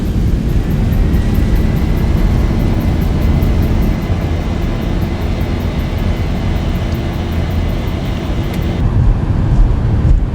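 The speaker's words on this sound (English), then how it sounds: "We got reversers on." Airliner engines roar in thrust reverse during landing in the X-Plane 11 flight simulator, a loud, continuous, broadband rumble that holds steady throughout.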